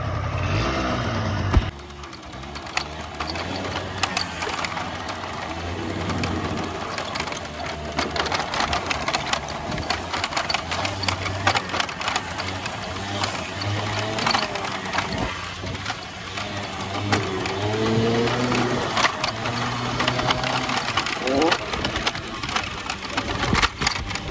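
A scooter engine starting and running in winter cold around minus ten degrees: a brief start noise, then a steady buzzing idle with rising and falling revs, close and continuous, with occasional faint rattles and no talking.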